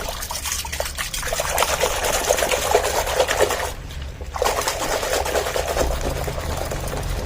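A silk saree swishes through soapy water in a bucket, a loud continuous sloshing and churning that breaks off briefly midway, then carries on at the same steady intensity, with no talking.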